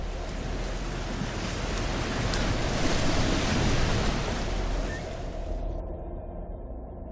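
Ocean waves roll onto new shorelines of a moon's refilled seas, a broad steady wash of surf that swells in the middle and fades toward the end.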